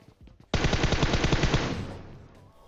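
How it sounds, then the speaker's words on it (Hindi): Cheap old guns in a video game fire a rapid automatic burst of about a dozen sharp, loud shots that end in a decaying echo, after a few faint clicks at the start. "यहाँ पे मैं वही अपनी सस्ती पुरानी गने चला रहा हूँ"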